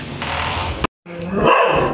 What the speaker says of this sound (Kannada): ಈ ನಾಯಿ ಕೂಡ ಬೈತಾಯಿತ್ತು ನನ್ನ